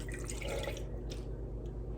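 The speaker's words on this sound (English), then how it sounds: "Pour my milk in here." Milk pours into a pan in a quiet, trickling stream, over a low steady hum in the background.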